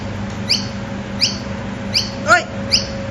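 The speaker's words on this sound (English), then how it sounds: "This bird is just going off and off and off." A bird calls again and again at Uluru, repeating short, bright, chirping cries that come at an even pace over a low, steady background hum.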